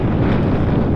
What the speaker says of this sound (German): der Wind ist kräftig